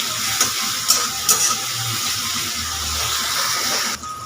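Spice paste with ginger and garlic fries in a pan, giving a steady soft sizzle with a few sharp scraping clicks as the spatula stirs, close and alone with no talking.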